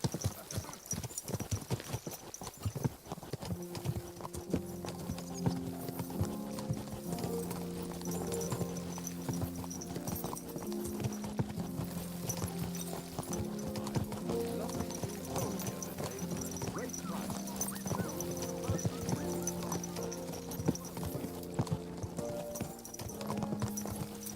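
Horse hooves clip-clop in a steady trotting rhythm throughout, faint and continuous, with a soft tonal musical drone running underneath, in the video game Kingdom Come: Deliverance II.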